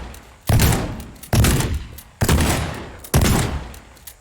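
Four loud, close bursts of gunfire from the TearDown video game, evenly spaced about a second apart, each a sharp blast that decays into a rumbling tail, with no talking.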